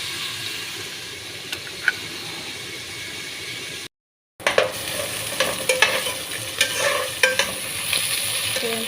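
Onions fry in a pan for a Kuwaiti-style fish curry, cooked until reddish. A steady hiss of sizzling oil runs throughout, with a brief silent gap midway and then bursts of stirring scrapes and crackles, close and loud.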